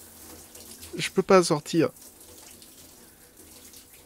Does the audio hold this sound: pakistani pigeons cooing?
no